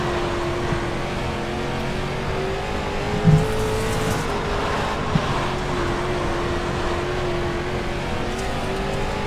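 Limited dirt late model race cars at Limaland in iRacing, a constant loud engine drone from several cars with droning harmonic tones and a couple of brief bumps, no talk.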